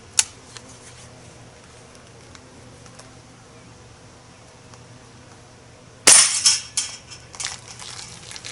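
A Hatsan Edge .177 break-barrel air rifle fires once at a spoon: a sharp, loud crack, then a brief metallic clatter and some rattling that die away.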